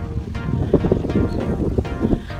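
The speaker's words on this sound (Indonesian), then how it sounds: "Ternyata di sini anginnya kencang." Strong wind buffeting the microphone outdoors at the African Renaissance Monument in Dakar, Senegal, a steady low roar with gusty swells across a couple of seconds.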